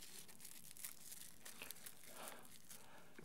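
Cellophane wrapping from a CD is crinkled with faint, continuous crackling and rustling close by, and no voices.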